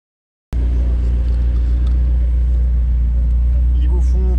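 A McLaren 750S Spider convertible drives with a loud, constant deep engine rumble and road roar close by, steady throughout with faint voices underneath.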